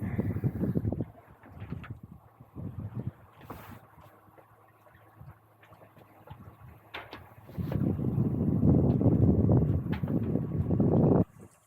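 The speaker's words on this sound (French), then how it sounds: "Je suis sous grand voile haute et Genneker." A sailboat runs under a full mainsail and gennaker in open ocean just outside the Gambier atoll. Wind and rushing water build into a louder, steady surge for the final few seconds, with no talking.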